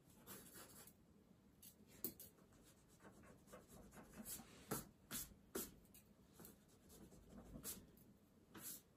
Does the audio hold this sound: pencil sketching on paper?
yes